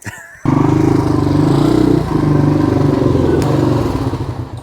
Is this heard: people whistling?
no